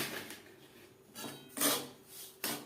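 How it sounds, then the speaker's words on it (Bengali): Milk powder being mixed into cooked semolina in a pan off the heat makes soft, close scraping and rubbing strokes, a few rasping pushes of the spoon with brief pauses between, and no talk. "সুজির সাথে গুঁড়ো দুধ বেশ ভালো করে মিক্সড করে দেব"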